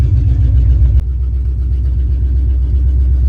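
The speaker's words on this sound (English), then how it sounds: "So far, the old K5 is running pretty good." Old Chevrolet K5 Blazer engine rumbling steadily while driving on a gravel road, a loud continuous low drone with one brief click partway through, no talking.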